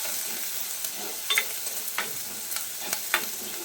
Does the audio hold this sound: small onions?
yes